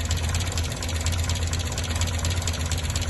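Chrysler Alpine engine idling after an idle jet adjustment, a steady close low rumble with even knocking pulses and no pauses or talking.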